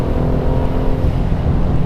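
Turbocharged engine of a 2016 BMW M2 revving, a loud, steady, deep burbling drone held close throughout with no break and no talk.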